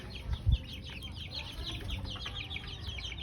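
Pet chickens on a backyard setup cluck and murmur softly throughout, with a brief louder low thump near the start and steady faint bird calls over a continuous background hum.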